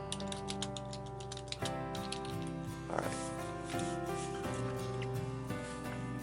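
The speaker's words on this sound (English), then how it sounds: "Type some stuff here." Keys clatter on a computer keyboard in a quick, uneven run of close, soft taps with brief pauses, steady throughout with no talking.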